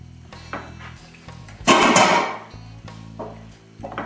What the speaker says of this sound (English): Now, do we stir this all together? Yep, here's another spoon.